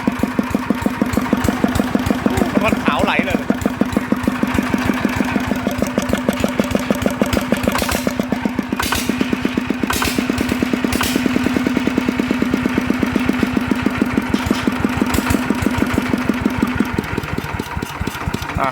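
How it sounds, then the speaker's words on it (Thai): A modified Kubota ET95 diesel engine, upgraded toward 120 with a step cam, runs steadily at idle with a rapid, rhythmic bearing clatter and a persistent whining hum, loud and close throughout. "เขาเรียกเสียงว่าลูกปืนมันดังนะเนี่ย"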